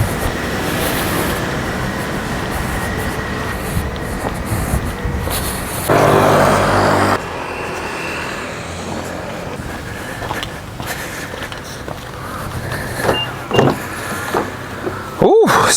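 Car with its power windows operating on a drive toward Patong, Thailand, steady road and engine rumble with a brief window motor hum partway through and a few clunks and rattles.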